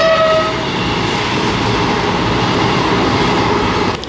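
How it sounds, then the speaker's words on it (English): A small two-carriage train rumbles in close and loud at a station platform with steady rolling wheel noise and a brief horn-like tone at the start, the roar sustained throughout. "Here's our train. It's a small one,"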